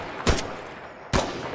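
Two sharp gunshots crack out in the tactical shooter Incursion Red River, spaced nearly a second apart, each with a short decaying tail.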